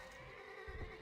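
A horse whinnies in a real-time strategy video game, a short, quiet neigh with a faint hoof-like thump near its end, heard alone.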